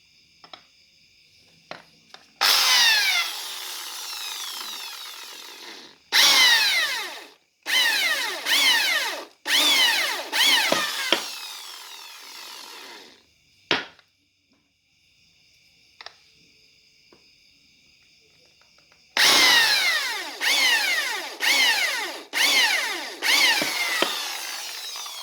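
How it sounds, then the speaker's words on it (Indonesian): A small 2 mm drill bit bores holes into a Yamaha Vixion motorcycle shock absorber part, coming as several loud, whining drilling bursts with short pauses between them and faint insect-like chirping in the quiet gaps. "kita langsung bolongin pakai mata bor 2 mili."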